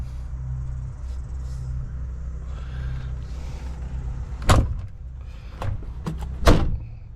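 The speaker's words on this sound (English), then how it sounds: "Shut the door to keep the wildlife out." An abandoned Peterbilt truck cab door is slammed shut twice, two sharp, loud metallic thuds a couple of seconds apart, with a few smaller rattles in between, over a steady low rumble and faint insect chirping outdoors.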